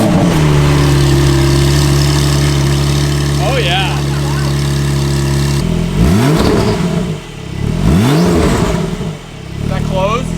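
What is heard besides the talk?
Porsche 992 Turbo S first start with titanium exhaust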